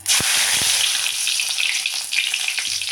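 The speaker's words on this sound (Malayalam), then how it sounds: "അപ്പം നമുക്കിനി കടുക് പൊട്ടിക്കഴിഞ്ഞ് കറിവേപ്പില ഇടാം" Curry leaves crackle and fry in hot coconut oil after mustard seeds have spluttered, a loud, steady, close sizzle with a few sharp pops near the start, no talking.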